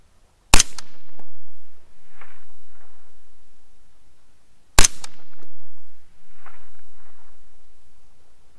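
Two AR15 rifle shots, each followed a moment later by a faint distant ping of the bullet striking a steel target at long range, 575 to 840 yards, with an outdoor hush between.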